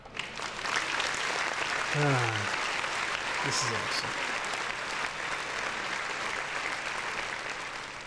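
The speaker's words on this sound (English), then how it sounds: "Round of applause." A round of applause closes a podcast episode, steady clapping throughout with someone speaking briefly over it.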